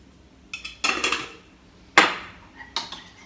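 Metal utensil clinks and scrapes against a bowl while mixing garlic, harissa paste and salt, in a few quick separate bursts with quiet gaps between them.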